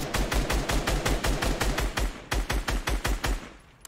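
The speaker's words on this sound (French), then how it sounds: "je tire." A player's rapid automatic gunfire in a video game, a close, loud string of evenly spaced shots with a short pause before a final burst that trails off.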